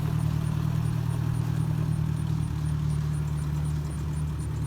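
A Ford 640 tractor engine idles steadily after clutch repair, with a constant low rumble and a fine ticking clatter, loud and close, running evenly with no talk over it.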